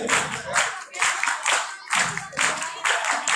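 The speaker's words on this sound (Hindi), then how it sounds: "तालियां रुकनी नहीं चाहिए।" At an outreach event in Daska, an audience keeps up rhythmic group clapping in steady, pulsing waves roughly twice a second, close and loud, with some talk beneath.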